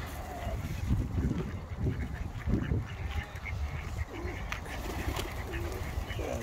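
Pigeons and ducks gather at the water in a Manchester park, with a busy mix of low cooing and scattered quacks and honks over constant outdoor background noise, fairly close.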